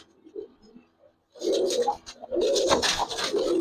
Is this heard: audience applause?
no